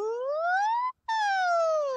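Human voice imitating an ambulance siren, a clear close wail rising in pitch, a short break, then a falling wail, sung alone with no other sound.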